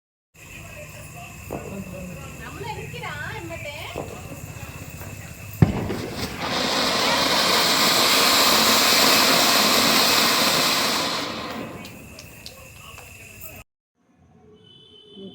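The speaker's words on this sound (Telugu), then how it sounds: "అయితే ఒక తర్వాత ఒక క్రాకర్స్ వేలుస్తున్నాము" Diwali firecrackers set off one after another in a family celebration: a loud, sustained hissing burst lasting several seconds, with a sharp crack just before it and people talking beforehand.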